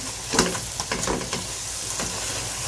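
Goat liver fries with spices on a tawa, giving a close, crackling sizzle broken by scraping stirs and a few sharper pops over about three seconds.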